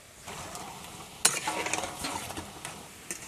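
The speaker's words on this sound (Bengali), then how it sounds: "বেশিক্ষণ সময় নিয়ে ভাজবো" Chicken pakoras frying in oil, village style, giving a close, bright sizzle with a sharp burst of crackling and scraping stirs partway through before settling into a steady hiss.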